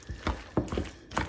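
A pepper grinder cracks coarse pepper over a smoked chicken salad, a few quick ratcheting crunches close by.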